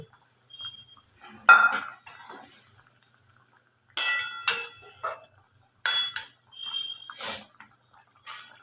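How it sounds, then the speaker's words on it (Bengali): Fried mrigal fish pieces going into a simmering mustard-oil chili curry in a pan, heard as a few sharp clinks and clatters of utensil against metal in separate bursts, with quiet gaps between. "এবার এর মধ্যে ভেজে রাখা মাছগুলো দিয়ে দেবো"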